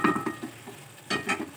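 Spatula stirring potatoes frying in a pan, a few quick scraping and sizzling strokes in two short bursts with a pause between, close and moderately loud.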